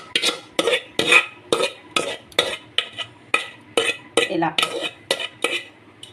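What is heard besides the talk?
stirring gongura into prawn curry in pan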